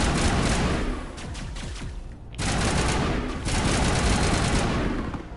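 Rapid bursts of gunfire crackle in the sci-fi shooter Mass Effect 1, loud and close, with one brief pause before the volleys resume, and no voices.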